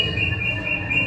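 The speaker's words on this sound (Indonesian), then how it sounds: "Bunyi burung." Faint, high chirping from a bird repeats over a soft background hum.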